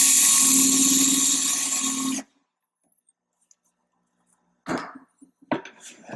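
A loud, steady power drill whirs for about two seconds boring a 1.5-inch hole in wood for a newel post, then stops abruptly; after a silence come a few brief knocks and handling sounds.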